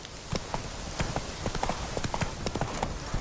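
Roach the horse gallops in Witcher 3, hooves pounding in a quick, steady clip-clop rhythm, close and clear over a soft ambient bed.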